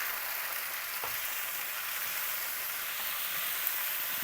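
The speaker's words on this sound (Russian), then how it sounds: "Сейчас моя задача немножечко поджарить капусту." Sauerkraut with onion and garlic sizzles steadily in a hot frying pan, a loud, dense and continuous hiss with one faint clink partway through. No voices are heard.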